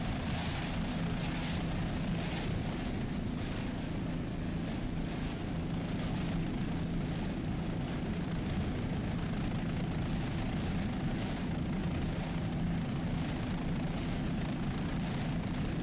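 Racing powerboat engine roar from a 32-foot super stock boat with twin Mercury 2.5 engines during a national championship race in New York, a steady loud droning rumble with no pauses throughout.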